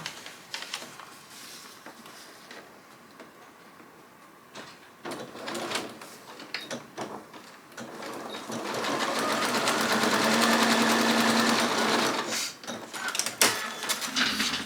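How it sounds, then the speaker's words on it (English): A sewing machine stitches a short paper-pieced seam line on a quilt block, starting with a few clicks and handling noises, then a steady, close, rapid whirring run of several seconds. "So, I'm going to sew that little line between D1 and D2."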